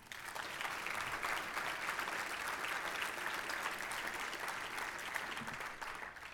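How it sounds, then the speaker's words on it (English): Steady audience applause at a keynote event, dense and sustained clapping from a large room filling the whole stretch, with no speech over it. "So let's give Kateri a round of applause"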